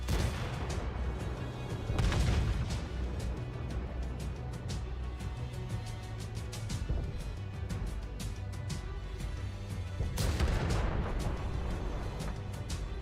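Tank guns fire in a World of Tanks console battle, heavy booming shots landing near the start and again around ten seconds, over a constant rumbling engine and battle din.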